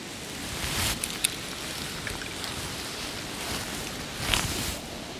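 Ocean waves washing against the shore in the dark at a night fishing spot in the remote Danjo Islands, Hizen Torishima, a steady broadband wash with a few louder surges rising and falling, no voices.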